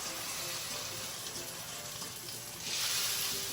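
Prime rib searing in a hot pan gives a continuous dense sizzle that swells louder near the end, with no talk.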